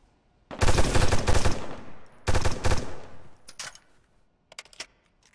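Gunfire in a 3v3 shooter video game match: loud bursts of rapid automatic fire, a long volley and a second shorter one, then scattered single shots and a brief trailing burst, separated by quiet gaps.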